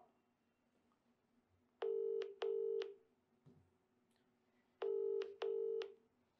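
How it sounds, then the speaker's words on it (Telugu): Telephone keypad dialing tones as a phone call is placed, sounding in two pairs of short, loud beeps separated by a brief pause and quiet line noise, with no talking. "ఒకసారి ఫోన్ చేద్దాం"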